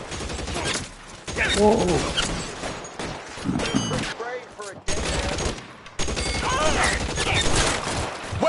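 Rapid submachine gun bursts in the video game L.A. Noire, dense rattling fusillades repeating through the scene, loud and close, with game voices and a player speaking over the gunfire.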